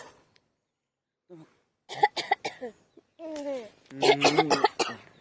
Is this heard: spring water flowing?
no